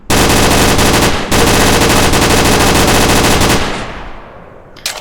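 Loud, sustained automatic gunfire in a VR shooting game, rapid continuous bursts close up with one brief break, then trailing off into quiet with a final short shot.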